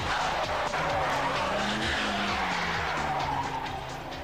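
Stolen cars driven at speed by joyriders, tyres skidding and squealing in a long, loud, continuous screech with engine noise underneath, nearby.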